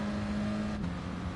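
A Renault Clio's engine in a sim racing game holds a steady, even drone throughout, with no voices over it.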